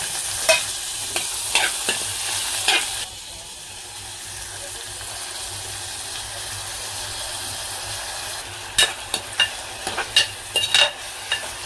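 Tomatoes are tipped into a frying pan and stirred. Sharp scrapes of a spoon against the pan come at the start and end, around a steady, moderate sizzle.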